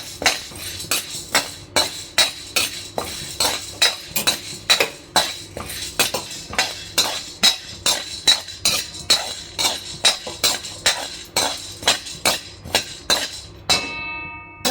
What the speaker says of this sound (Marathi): आता आपण चणा डाळ भाजून घेत आहोत.